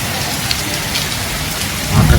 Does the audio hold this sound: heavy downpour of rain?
yes